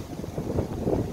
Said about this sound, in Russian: Но ветер, конечно, еще до сих пор достаточно сильный, я скажу.